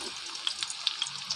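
Garlic and onion fry in a pan, with a soft, steady sizzle and small crackling pops close by and no talking.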